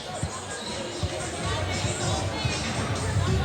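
Crowd noise fills a high school basketball gym during a Glendale vs. Troy game as a timeout is called, with a steady murmur of chatter and scattered thuds of a bouncing ball.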